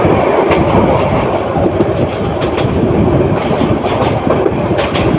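Mohanagar Provati Express train speeding through Tejgaon railway station in Dhaka, a loud, continuous rumble with steady clickety-clack of wheels on rail joints, close by and with no voices.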